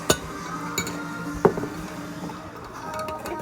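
A spoon clinks and scrapes against a bowl while mixing gluten-free breadstick dough, giving a few sharp, bright taps spaced out over a quiet background.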